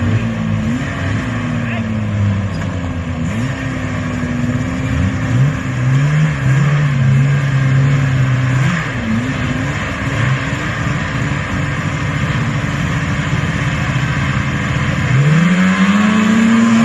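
Vintage snowmobiles race head to head, their engines loud and close, pitches climbing and falling as the sleds accelerate and pass, with a steady roar throughout and a sharp rising whine near the end.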